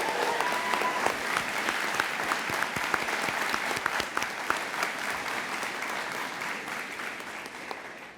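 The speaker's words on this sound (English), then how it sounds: "a round of applause for these students" Sustained applause from a sizable crowd at a fire academy graduation, steady clapping that carries on for several seconds before tapering slightly at the end.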